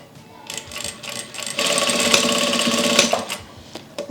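A sewing machine back stitches satin and cotton fabric, running in short bursts and then in one sustained stretch, its rapid mechanical stitching loud and close, stopping and restarting at the end.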